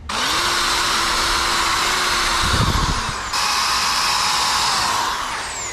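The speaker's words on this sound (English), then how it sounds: "we just gotta drill that out a little bit bigger." A power drill runs steadily at high speed for several seconds, boring out a hole on a Lexus IS300, with a brief rougher grinding burst partway through as it bites into material.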